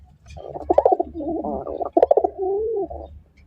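Fancy pigeons coo close by in a loft, a couple of rolling, throaty coos in succession over a low background rumble.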